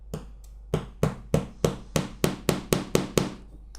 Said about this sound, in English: going to quite simply tack a nail roughly over the centre of the rebate